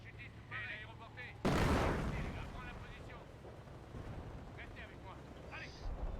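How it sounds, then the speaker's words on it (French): Heavy machine gun fire in a video game, a sudden loud burst of booming blasts that rolls into a rumbling, sustained barrage, with someone talking over the shooting. "il y a une mitrailleuse lourde qui me tire dessus"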